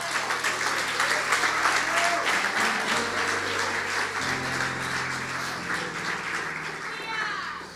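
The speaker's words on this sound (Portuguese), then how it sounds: "diga amém e aplaude ao Senhor." A church congregation at a worship service in Lisbon breaks into sustained, dense applause that fills the room, with a low instrumental tone holding underneath and a few voices mixed in, slowly thinning toward the end.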